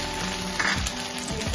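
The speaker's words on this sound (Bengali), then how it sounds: "নাড়াচাড়া করে দেবো আদা রসুন দিয়ে।" Ginger and garlic frying in a pan for a mustard curry-leaf chicken, a steady close sizzle with soft scraping stirs running through it, no voices.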